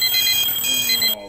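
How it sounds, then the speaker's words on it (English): An alarm clock ringing loudly and continuously with a bright electronic tone, close by, cutting off abruptly near the end; faint voices sit underneath. "the alarm clock is the most annoying item that there is that exists"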